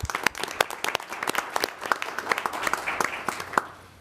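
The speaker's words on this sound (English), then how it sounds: "Round of applause for the job that she did." Audience applause at a St. Charles County, Missouri council meeting: a room of people clapping steadily, with sharp overlapping claps at moderate loudness that start to taper near the end.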